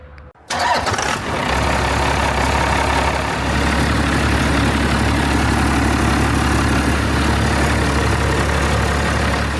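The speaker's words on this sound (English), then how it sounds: "You can definitely tell the engine's quieter with 2 turbos on it though." A large diesel truck engine with compound turbos cranks and catches, then settles into a steady, loud idle with a deep low rumble and a broad hiss.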